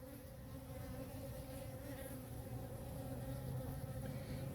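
Honey bees swarm the entrance of a Jester EZ nuc box, feeding on honey drizzled on the landing board, giving a close, continuous, steady buzzing hum with no voices and little change in level throughout.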